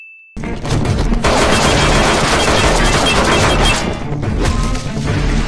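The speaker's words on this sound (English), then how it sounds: "Guy fires roughly 12 rounds into a briefcase that's roughly 2 feet high by 1 foot wide instead of shooting literally anywhere else" Rapid gunfire as a man empties about a dozen rounds into a briefcase, a loud, dense, continuous burst of shots filling the whole span after a brief quiet start.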